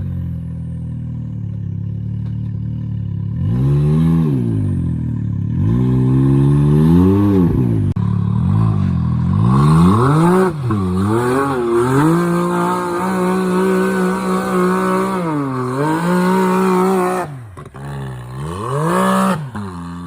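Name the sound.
Can-Am X3 side-by-side engine bogging and revving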